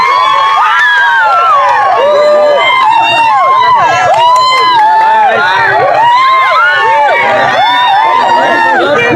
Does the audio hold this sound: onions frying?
no